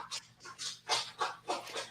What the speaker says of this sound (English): we can hear Russ's dog tap dancing in the background